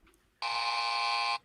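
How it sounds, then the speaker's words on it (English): A single electronic buzzer tone sounding during a talk show, one steady loud buzz lasting about a second, alone with no talk. "I heard the buzzer."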